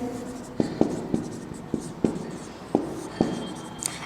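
Chalk or marker strokes as chemistry notes are written on a board, heard as a series of distinct taps and short scratches at irregular intervals over a soft room background.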